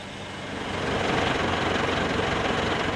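A tractor engine idles and runs steadily while pulling a Stanhay singulaire precision drill sowing carrot seed, a continuous broadband rumble that swells over the first second and then holds loud and even, with no talk.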